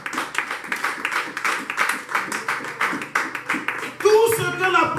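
A church congregation at a Sunday service claps together in a fast, steady rhythm to acclaim the Lord, loud and close, with voices rising over the clapping toward the end.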